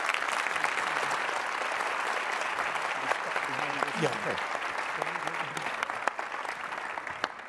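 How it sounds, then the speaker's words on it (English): An audience at a closing conference plenary claps for the speakers in sustained, dense applause, with a few voices underneath. "please could you give our speakers a great round of applause"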